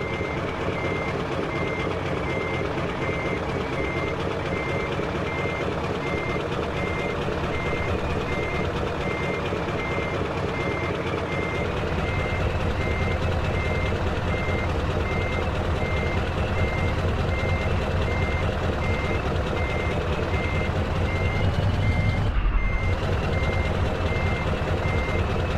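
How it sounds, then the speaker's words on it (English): A Scania recovery truck in Euro Truck Simulator 2 idles steadily, a low continuous engine drone with a repeating reversing beeper over it and a brief sharp burst near the end. "The truck does sound lovely on tick over."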